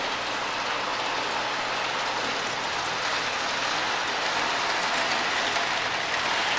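A model passenger train with a boxcar runs along its track on a layout, a steady close rolling rumble with a faint clickety-clack that continues throughout, with no talking.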